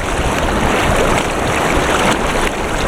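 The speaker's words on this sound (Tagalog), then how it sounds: "Sobrang lakas ng alon" Loud, constant rush of a strong river current near Ar-arbis Falls in Abra, a dense roaring wash of fast-moving water with no pauses.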